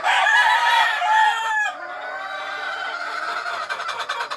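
Hens in battery cages cluck and squawk loudly up close, with a crowing-like call at the start followed by softer overlapping fowl chatter.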